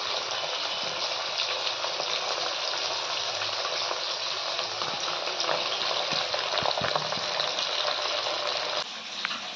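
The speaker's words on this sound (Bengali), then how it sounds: "তেল নিয়ে সেটাতে ট্যাংরা মাছগুলো একটু ভেজে নিতে হবে" Tyangra fish frying in oil in a home kitchen, a steady dense hiss of sizzling carries through the whole stretch with faint stirring clicks, near and even, no talk.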